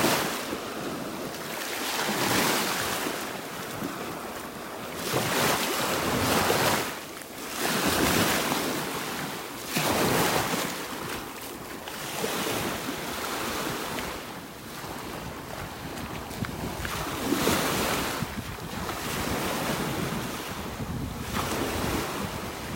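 Ocean waves break and wash onto a beach in North Naples, Florida, in repeated surging swells every few seconds, with wind buffeting the microphone throughout and no voices.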